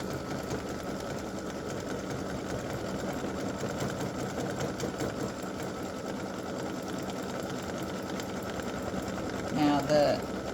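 An embroidery machine runs a steady, even stitching hum throughout while working a Christmas gnome applique design, with faint speech under it.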